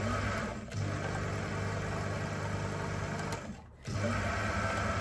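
Sewing machine running a straight stitch through a cushion cover, a fast steady mechanical whir with two brief pauses where it slows and stops before starting again, close and alone.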